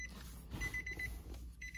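A Nissan Pathfinder's key-in-ignition warning chime sounds as faint, steady, repeated electronic beeps in two short runs over a low engine-bay hum. No one speaks.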